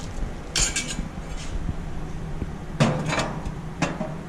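Metal burner covers for a Char-Broil Performance infrared grill being set into place, several sharp clanks and rattles at irregular intervals with quieter handling sounds between, close by and without speech.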